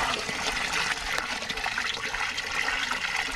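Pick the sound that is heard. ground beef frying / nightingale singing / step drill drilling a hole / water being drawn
water being drawn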